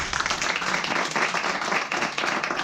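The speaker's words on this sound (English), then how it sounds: "Give a round of applause" Audience applause at a conference stage in Hamburg, a dense, steady round of clapping from the crowd that holds at an even level throughout, moderately loud with no voices on top.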